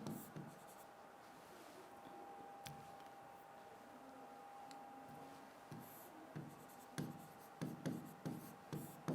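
Pen scratching on paper during a Class 10 Sanskrit lesson, faint strokes that grow into quicker, louder bursts toward the end, with a steady hum underneath.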